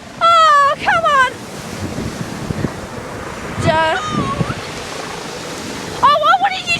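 Waves wash onto a beach in a constant rushing surf with heavy wind buffeting the microphone, while high excited voices shout over it in short bursts near the start, middle and end.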